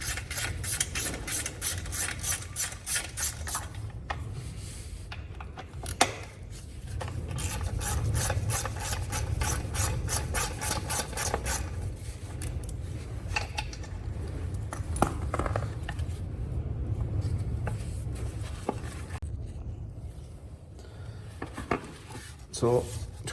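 Small Allen keys turn screws out of a motorcycle chain cover, giving steady metallic ratcheting and rasping clicks in fast repeated runs over a low background hum, with brief pauses between bursts.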